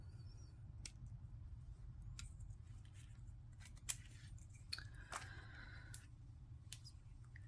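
Scissors snipping beading wire on a craft table, several short sharp cuts scattered over a quiet, steady low hum.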